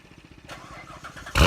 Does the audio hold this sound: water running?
no